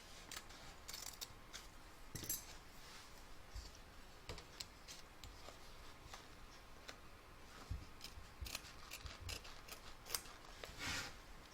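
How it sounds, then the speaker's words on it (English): Scissors snipping away excess batting and cutaway stabiliser around a machine-embroidered doll in the hoop, a string of faint close clicks and cuts in irregular rhythm, no talking. "You're going to trim away the excess batting and the cutaway stabiliser."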